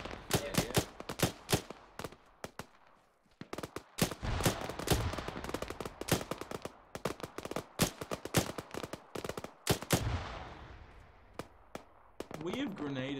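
Rapid gunfire and grenade blasts from the ARMA 3 video game crackle in dense bursts with heavier booms mixed in, loud and continuous for most of the stretch, then thinning out toward the end.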